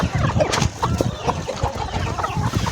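Chickens clucking while pecking and eating fresh grass in a poultry yard; several close, busy clucks and soft calls overlapping in an irregular rhythm, with no speech.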